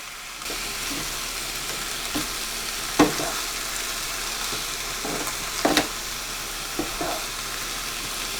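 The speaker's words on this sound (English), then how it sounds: "And now we're going to add in the sauce that we prepped earlier." Chow mein noodles sizzle steadily in a hot pan with sauce just added, a constant broadband hiss broken by several sharp scrapes and clinks of stirring, close and fairly loud with no voices.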